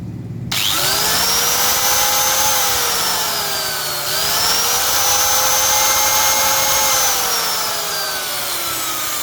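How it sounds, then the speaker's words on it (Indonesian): An angle grinder switched on from a 220 V isolated mains supply whines loudly and steadily after a brief start, its pitch dipping briefly about midway as if loaded, then holding on alone with no talk. "Saya coba kasih beban gerinda ya. Gerinda saya hidupkan."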